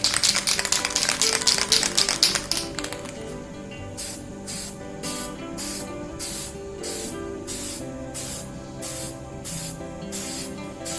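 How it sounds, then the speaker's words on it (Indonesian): An aerosol spray paint can rattles briskly as it is shaken, then lets out a series of sharp, regular hissing sprays, close up and with no talk. "yang untuk cat semprot kayak gini, cat semprot kaleng maksudnya"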